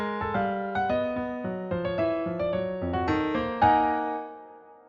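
Dissonant chords on a keyboard-like instrument sound in a rhythmic series of clashing, sustained harmonies, played alone and fairly close, with the last chord ringing out and fading.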